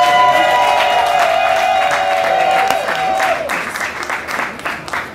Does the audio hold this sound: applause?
yes